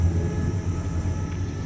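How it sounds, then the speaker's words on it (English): A low, steady mechanical hum from a tower crane's slew motor drones with a faint whine on top, continuous and fairly close, without talk. "Listen to that slew motor"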